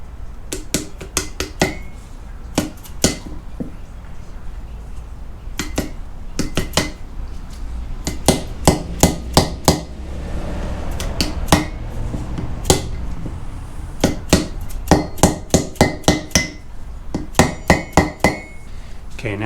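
Wheel bearing seal being hammered into a 2WD Ford Ranger rotor, sharp metallic hammer blows in irregular clusters and rapid runs, loud and close over a low background hum.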